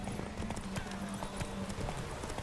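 Roach the horse gallops in a race in The Witcher 3, with steady, rapid hoofbeats close up over a low musical drone throughout.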